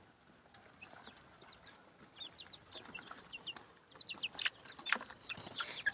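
Chickens, fairly big young chicks of mixed sizes, cluck in a chorus close by, the calls growing denser and louder toward the end over a rustling background.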